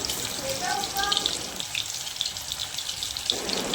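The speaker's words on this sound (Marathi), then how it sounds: "आता दुसरा प्लॉट पण बोंबील पण मी अशाच प्रकारे स्लो टू मिडियम फ्लेमवर फ्राय करून घेणार आहे" Bombay duck fish pakoras fry in oil over a slow-medium flame, giving a continuous crackling, watery sizzle at moderate loudness, with a brief voice-like murmur near the start.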